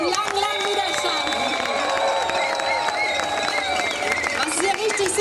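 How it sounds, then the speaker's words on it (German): A crowd at an outdoor protest rally applauds for demonstrators from the Wendland region, a steady, dense wash of clapping and cheering that lasts throughout, with voices mixed in. "Einmal Applaus für die tapferen Wendländer und den langen, langen Widerstand."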